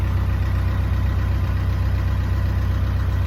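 A boat engine idles steadily nearby with a low, even chugging pulse and a constant mechanical hum, no voices over it.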